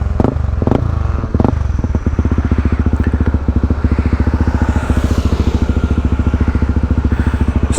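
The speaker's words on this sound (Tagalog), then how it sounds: "Ang ganda ng tunog ng pipe na to" A Honda CB150X motorcycle exhaust blasts through a few sharp revs, then settles into a loud, rapid, throbbing full-throttle drone up close, with clattering crackle.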